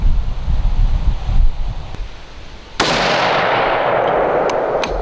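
One sharp, loud report from a hunting rifle at an outdoor range, cracking suddenly out of a windy, rustling background and followed by a long rolling echo that slowly decays, with a couple of faint clicks afterward.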